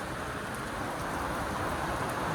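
Rain falling outdoors, a faint, even hiss of drops on surfaces that holds steady throughout with no voices over it.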